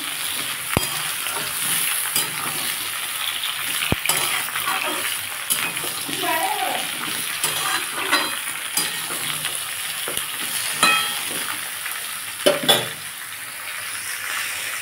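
Chunks of rohu fish and cucumber fry in a pan for a Bengali fish curry, a steady oily sizzle throughout with occasional clinks and scrapes of a spatula against the pan.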